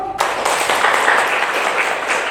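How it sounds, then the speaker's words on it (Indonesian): A classroom audience applauds a student group after their presentation, a dense burst of clapping that begins abruptly and continues steadily, fairly loud and close. "kita berikan aplaus dulu"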